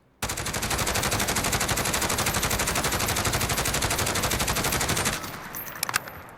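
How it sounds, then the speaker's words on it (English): A SIG 556 PDW fires one long, rapid, continuous automatic burst of about five seconds in Call of Duty Modern Warfare, loud and close. A few faint clicks follow once the firing stops. "see what the bullet spread looks like at this range"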